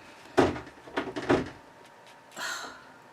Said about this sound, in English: the cat is going to break down the door